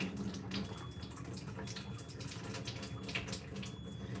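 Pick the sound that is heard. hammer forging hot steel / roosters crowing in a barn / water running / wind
water running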